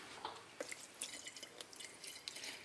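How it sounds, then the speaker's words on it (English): Distilled water drips into an open golf cart battery, with several quiet, irregular drops and small splashes close by against a soft background. "the water that I'm adding in there is just straight up distilled water"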